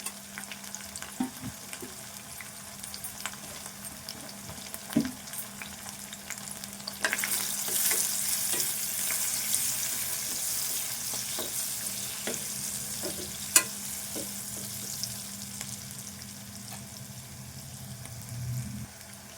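Onion and ginger paste fries in a pan for a masala curry, a steady sizzle under scattered stirring clacks and scrapes of a spoon against the pan, growing louder midway through.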